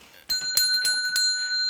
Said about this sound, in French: On a une petite cloche qui est ici